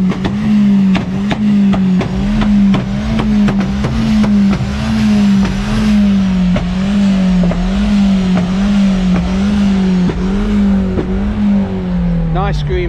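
Car engines rev loudly and continuously nearby at Santa Pod Raceway, a steady droning roar with rising and falling pitch and no one speaking over it.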